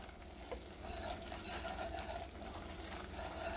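Butter and flour roux bubbling in a pan as it is stirred, a steady close sizzle with soft spoon scraping, no talk.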